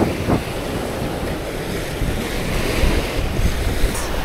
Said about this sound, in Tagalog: pansinin nyo lakas ng alon tsaka ng hangin